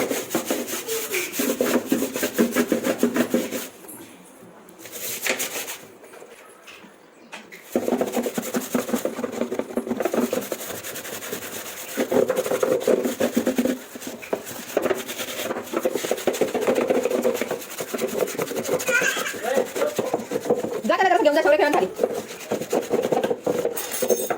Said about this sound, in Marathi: आपला ब्रश असतो जो नॉर्मल कपडे धुतो आपण त्याने ना सगळं घासून घेतात